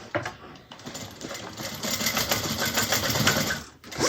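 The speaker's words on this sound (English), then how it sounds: "I have to stitch this back up." A sewing machine stitches a bag seam back up in quick, steady mechanical chatter that runs close and loud with a brief pause near the end before starting again.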